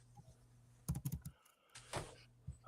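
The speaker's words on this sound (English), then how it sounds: "I'm going to type in Franklin" Quiet keystrokes on a computer keyboard come in a quick run of clicks, pause, then resume with a few more taps, faint and close, over a low steady background.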